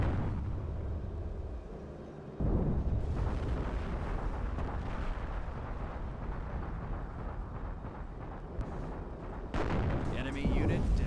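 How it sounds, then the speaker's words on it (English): Mortar shells pound positions in Company of Heroes 2, heavy booming impacts and rumbling blasts landing repeatedly across a noisy battle, with a sudden loud onset and someone talking over the barrage. "how many fucking mortars they have just pounding us"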